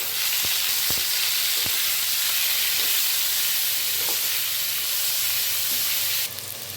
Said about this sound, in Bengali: যত সামান্য নুন দিয়ে আমি পেঁয়াজগুলোকে ভালো মতো ভেজে নেব